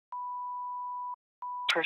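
Two clear tones at a single steady pitch, the first lasting about a second and the second shorter, sound on a forwarded phone call going to voicemail. Other sound begins at the very end.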